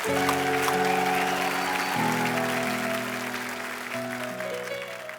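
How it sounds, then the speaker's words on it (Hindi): A studio audience on The Kapil Sharma Show claps steadily throughout, a dense wash of applause welcoming guests on stage, with sustained music playing beneath it. "तो एक बार जोरदार तालियां हो जाएं हमारे मेहमानों के लिए"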